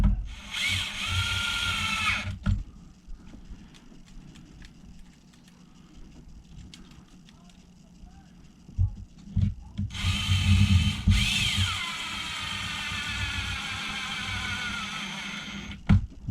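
A power drill drives fasteners to tighten down battery tray straps on a plate, whirring in two long, loud bursts at the start and end with quieter clicks and handling noise between.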